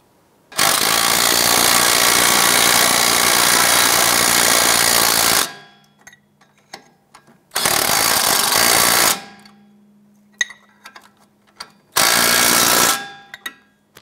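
A power tool loudly hammers nuts onto the strut bolts of a 2001–2007 Ford Escape. It runs in three close, sustained bursts: a long first run, then two shorter ones, with faint clinks and handling noises in the pauses.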